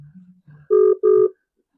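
Two bursts of an electronic phone ringtone during an outgoing call, clear and close, after a short stretch of low hum.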